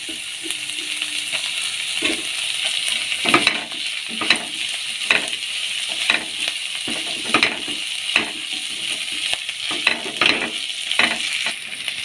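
Green chilies fry in oil in a pan for a Bengali doi katla fish curry, a steady sizzle broken by repeated scraping stirs of a spatula at a roughly regular pace.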